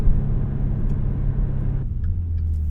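A 2015 Maserati Ghibli S Q4 twin-turbo all-wheel-drive sedan accelerates at full throttle, heard from inside as a loud, steady engine roar that drops in pitch near the end, as at a gear change.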